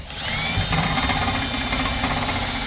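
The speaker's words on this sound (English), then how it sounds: "got all the holes drilled in there" A power drill bores holes through plywood for a box being built for a motorhome, a loud, steady whirring drone that runs unbroken from start to finish, close by with no talking.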